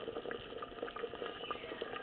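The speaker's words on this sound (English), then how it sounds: "I'll let the water boil a little bit first" Continuous bubbling and gurgling of water at a rolling boil in a pot, small pops scattered throughout, steady and moderately close.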